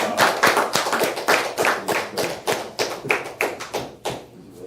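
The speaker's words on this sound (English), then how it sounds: "he needs applause too, you know." A small group claps along at a cooking demonstration, about fifteen crisp, evenly spaced claps close by, with no talking over them.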